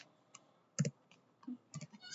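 A few scattered keyboard clicks come from typing on a computer, soft and close, in short irregular bursts with quiet gaps between them.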